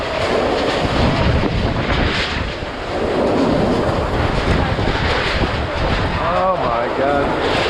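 Typhoon winds roar without letup in Naga, Bicol, with loud, steady gusts buffeting the microphone and a faint voice underneath.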